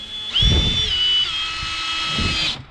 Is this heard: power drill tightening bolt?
yes